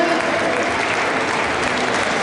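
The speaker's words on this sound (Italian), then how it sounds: "un applauso a Maurizio Cattafesta e Davide Passalotto per questa esibizione" An audience at an amateur boxing event in San Giovanni Lupatoto claps after a bout, a dense, even burst of applause that fills the whole moment at close range.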